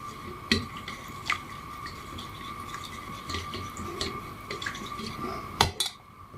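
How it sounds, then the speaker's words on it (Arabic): A spoon stirs yogurt into milk in a pot, sending sharp metallic clinks and taps against the side at irregular intervals, close and fairly quiet over a faint steady hum. "اقلبه كويس قوي في اللبن ده الاول"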